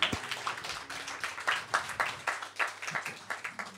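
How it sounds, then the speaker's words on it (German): An audience at an album release party claps in a quick, steady rhythm, the sharp claps fairly faint and close together, with no one speaking over them. "Schön auch nochmal klatschen."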